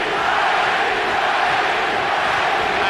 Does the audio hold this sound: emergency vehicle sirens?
no